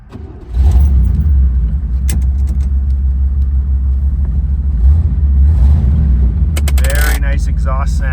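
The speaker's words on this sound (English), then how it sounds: "Very nice exhaust sound." A 1973 Corvette with a 454 V8 and four-speed manual rumbles into a steady, deep exhaust idle just after starting, with keys jangling and a few mechanical clicks, then a brief voice near the end.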